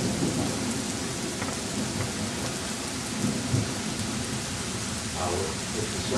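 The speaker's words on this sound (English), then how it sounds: "Now the rain is kind of on the light side." Light rain falls steadily during a thunderstorm, a constant wash of drops on surfaces with faint rumbles underneath, moderately loud and continuous.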